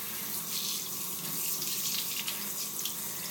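Water pours steadily from a kitchen faucet into a sink at close range, a continuous loud hiss and splash that stays unbroken throughout.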